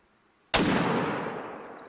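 A single sharp rifle shot fired at a puma in the hunting game theHunter: Call of the Wild, loud and sudden after near silence, followed by a long reverberant tail that fades slowly.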